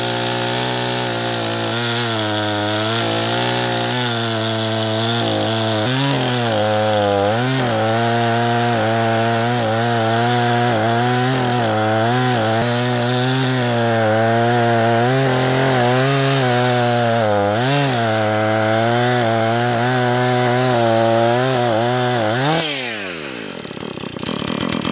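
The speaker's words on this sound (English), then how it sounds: "got the stump cut flush to the ground. That chain on my chainsaw is pretty much shot." A chainsaw with a worn-out, dull chain cuts a tree stump down flush to the ground, its engine roaring loud and close for over twenty seconds with rising and falling pitch under load before winding down at the end.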